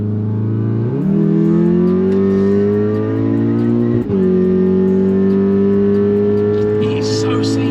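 A stage 3 tuned VW Golf R Mk7.5 accelerates hard from inside the cabin, its engine drone rising steadily through two quick gear changes, loud and continuous, with faint talk near the end.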